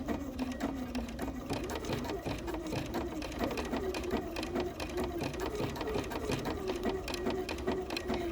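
Sewing machine running a triple stitch around an appliqué on a stitched postcard, a steady rapid needle clatter continuing throughout at moderate volume.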